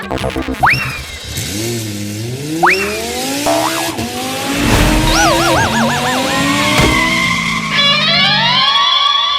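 A cartoon super car races with loud tire squeals and rising, wavering engine whines that sweep up and down over several seconds. The sound is loud and close, with no speech.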